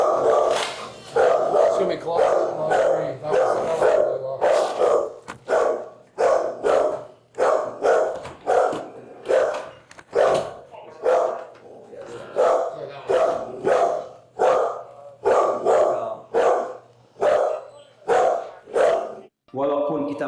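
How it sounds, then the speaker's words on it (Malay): A dog barks repeatedly in regular bursts over about twenty seconds, mixed with occasional growls and yips, while people talk throughout. "jangan takut dengan anjing itu"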